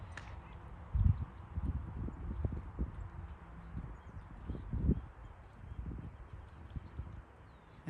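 Steady, rhythmic hoofbeats of a Tennessee Walking Horse in a fast running walk, with occasional louder thuds and a faint bird call in the background.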